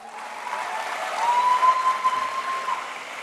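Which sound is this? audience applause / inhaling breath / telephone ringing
audience applause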